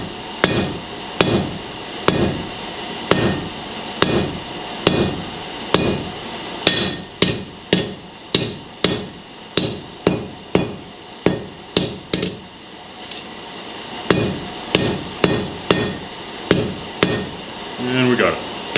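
A blacksmith's hammer strikes hot steel repeatedly while drawing the initial taper of a fire poker, sharp ringing blows in steady bursts with short pauses, close and loud in a shop.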